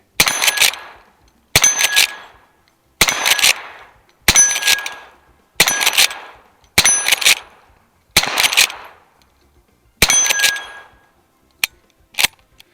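Repeated sharp metallic clangs of a lever-action rifle, an 1873 or 1892 model with buckhorn sights, being cycled to jack rounds out, about eight loud evenly spaced racks followed by two lighter clicks, with no talking.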